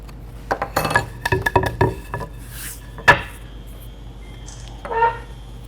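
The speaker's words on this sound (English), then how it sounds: "I'll take a little 1/8 inch chisel, and I should be able to get the excess out like this" A small 1/8 inch chisel pares away excess ebony plug wood, giving a run of sharp, close clicks and light taps in quick clusters, then a louder single knock and a few softer scrapes, with no talking.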